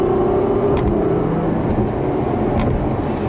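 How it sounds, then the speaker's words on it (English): A 2018 Ferrari GTC4Lusso accelerating with steady engine drone and brief gear-shift dips, heard from inside the cabin, continuous and fairly loud with no talking. "you got the huge carbon fiber paddles behind the steering wheel. Super smooth shifting"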